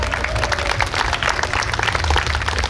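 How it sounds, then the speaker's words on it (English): Applause and cheering from a crowd at a New York State Police special operations rescue demonstration; loud, continuous clapping with low crowd rumble throughout. "Round of applause for the rescue"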